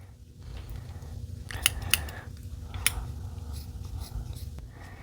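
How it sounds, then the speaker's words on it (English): Scissors snip through crochet yarn for a watermelon project, a few quiet close cuts and blade clicks over faint handling noise. "Then we're going to cut through them."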